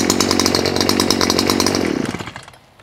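An Echo SRM 520 brush cutter's two-stroke engine screams at high revs close by, then winds down and fades toward idle over the last second.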